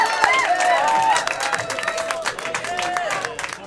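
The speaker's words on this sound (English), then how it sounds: "Give him a Kerry round of applause" Applause and cheering from a pub crowd greeting a guest at a Harvest Festival night, with clapping spread across the room and a lively hubbub of voices and shouts running under it throughout.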